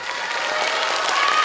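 A crowd of students at a high school admissions information session claps vigorously and continuously, a dense wash of applause with a hint of cheering.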